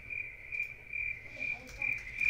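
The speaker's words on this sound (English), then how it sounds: "You should be hearing crickets" Crickets chirp steadily in a high, pulsing trill, fairly faint against a quiet background.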